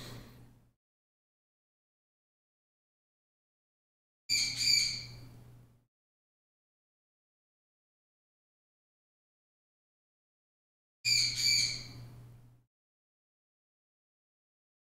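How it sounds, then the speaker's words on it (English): A pet bird lets out two separate harsh squawks a few seconds apart, loud and close, each with a short burst of noisy calls, with silence between them and no talking. "So that's my older bird."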